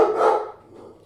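A single short dog bark, close and fairly loud, ringing briefly in an indoor room with no speech over it.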